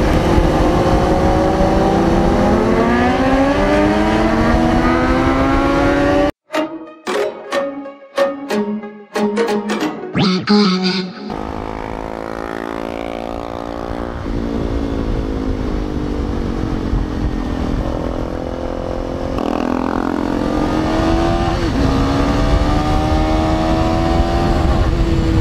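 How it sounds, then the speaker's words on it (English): A loud Bajaj Dominar motorcycle revs hard, with sustained high engine drone, a burst of sharp staccato blips and pops mid-way, then repeated rising and falling revs close by. "That's one loud Dominar."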